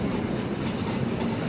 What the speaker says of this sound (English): That got rid of the horrifying, scary freight train.